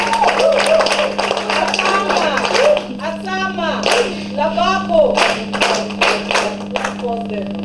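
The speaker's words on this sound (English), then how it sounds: "Another round of applause for yourself." An audience applauding at a farmers forum, a steady wash of many hands clapping close by that swells and breaks into bursts, with a voice speaking over the applause throughout.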